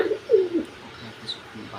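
A Mayurpankhi pigeon coos nearby, giving a few low, throaty rolling coos in quick succession followed by quieter soft sounds.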